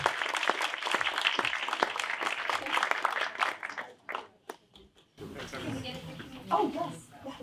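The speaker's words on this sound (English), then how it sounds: "So if everyone could join me in a round of applause" A seed-round startup pitch competition audience applauds, with sharp claps in a busy, fairly loud wash that thins out and stops partway through. Nearby voices then chat quietly in the room.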